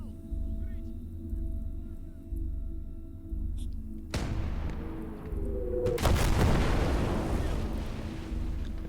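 Heavy tank shells slam into an armored vehicle in the WWII strategy game Gates of Hell: Ostfront, two loud booming blasts at about four and six seconds over a steady low engine rumble, the second hit followed by a long crackling roar.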